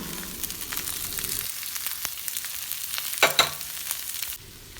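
Small onions and curry leaves sizzle steadily in a hot pan for a chutney, with a louder burst of crackling midway and a few clinks of stirring before the hiss drops off near the end.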